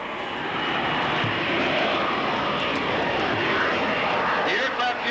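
Military jet aircraft with thrust vectoring at a 1988 San Diego airshow, a steady loud engine roar that holds throughout, with a voice talking over it.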